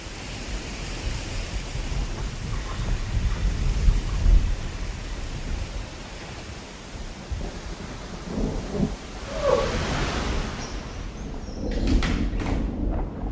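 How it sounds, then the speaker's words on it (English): Thunderstorm over Koh Tao during the monsoon season, with steady rain hiss and low rolling thunder that builds, plus a sharper, nearer crack of thunder partway through; no voices. "The big storm's on the way."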